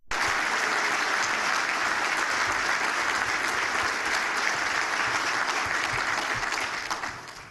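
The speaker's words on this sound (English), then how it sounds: "let's give him a round of applause" An audience at a chamber of commerce breakfast bursts into sustained applause, a dense wash of clapping that stays loud and even for several seconds before trailing off at the end.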